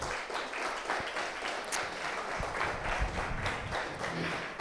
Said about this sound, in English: So a big round of applause to all of those people,